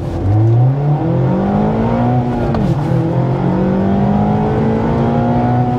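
A 2002 Mazda Miata SE making a braking test run: the engine revs up loudly through gears, pitch climbing, then drops as the car slows, with steady road and engine noise throughout and no talking.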